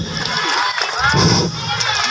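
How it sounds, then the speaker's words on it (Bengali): An audience at a school annual sports day erupts in cheering and shouting, with a crowd roar building and swelling midway, close and loud throughout, with no clear applause rhythm. "জোরে করতালি হবে"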